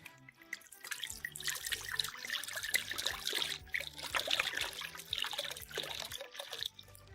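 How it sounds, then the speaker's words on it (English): Red wine pouring into a bowl in a home kitchen while a chicken marinade is being prepared, making a steady trickling stream for several seconds with faint kitchen clatter underneath and no talking. "Pour the red wine into a bowl."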